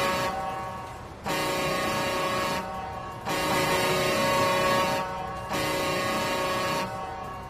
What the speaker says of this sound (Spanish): ahí pudieron escuchar la bocina